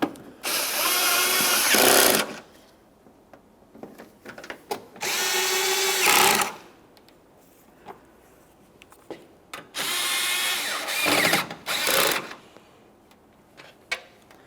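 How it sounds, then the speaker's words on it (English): A power driver snugs up a headlight assembly bolt on a 2011-2020 Toyota Sienna, running in four loud whirring bursts of about two seconds each with short pauses between them. "since it's hard to reach inside this area, I'm just going to put it on my driver"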